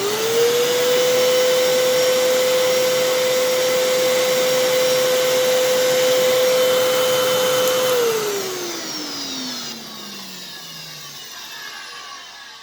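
A Fantom Fury 10 amp upright vacuum cleaner from 2000, with a brush roll that has issues, runs loud and close with a steady high whine, then winds down as the motor is switched off and the pitch slides away.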